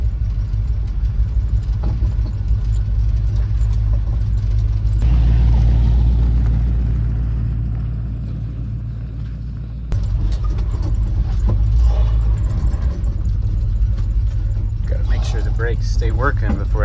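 A 1978 GMC truck engine running rich after years of sitting, a steady low idle rumble that swells briefly louder midway, with someone talking over it.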